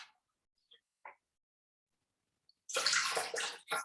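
Lukewarm water is poured from a small jug while making pizza dough: a close, splashing pour of about a second after near silence and a few faint clicks.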